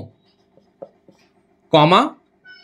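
Brief scratchy strokes of writing on a board in a Class 10 chemistry lesson, a few soft separate marks, then a teacher speaks briefly in Hindi.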